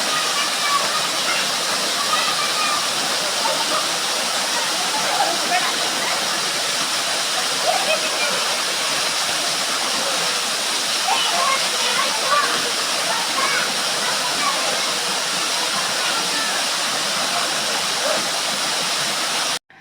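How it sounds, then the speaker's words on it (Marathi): A waterfall at Ramling temple in Yedshi, falling at high speed, gives a loud, continuous rushing roar close by, with voices faintly audible under the noise. "एवढं स्पीडनी पाणी पडत होतं वरून"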